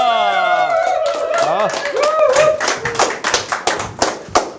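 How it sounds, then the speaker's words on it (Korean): Audience applause welcoming a lecturer onto a Korean talk-show stage, rising after an announcer's voice and continuing as a burst of hand claps, with a few louder individual claps near the end. "큰 박수로 모시겠습니다."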